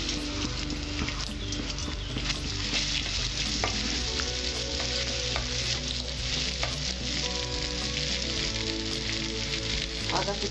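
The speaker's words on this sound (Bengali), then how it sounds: "তেলটা আমার গরম হয়েছে, এবার আমি দেব রসুন কুচি" Chopped garlic fries in hot oil for Bengali mixed fried rice, producing a steady, even sizzle throughout with a faint tonal hum in the background.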